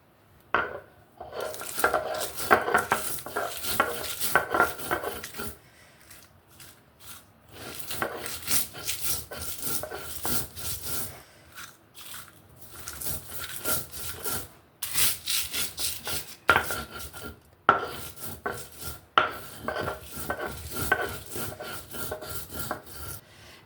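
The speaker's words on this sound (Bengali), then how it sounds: "মরিচটা এভাবেই আমি গুঁড়ো করে নিতে হবে" Dried red chilies are crushed with salt and no water, ground by hand for a dried-fish bharta. Repeated gritty rubbing and grinding strokes come in bursts separated by short pauses.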